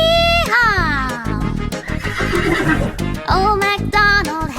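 Horse neighs ring out in loud, shaky whinnies, one at the start and more near the end, mixed with singing voices in a children's farm song where a voice also imitates the neigh.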